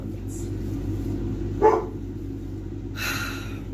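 A single short dog bark sounds indoors over a steady background hum, followed by a softer rustling noise.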